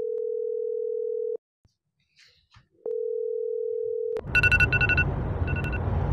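A steady telephone dial tone sounds loudly, cuts off into near silence, then returns before quick dialing beeps over a low rumble as a call is placed.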